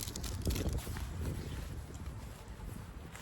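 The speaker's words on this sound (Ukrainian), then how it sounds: "Вітер дує, не знаю, як вам буде чуть" Wind buffeting the microphone outdoors in Enerhodar, a low rumbling gust that swells early and then settles into a steady blustery roar.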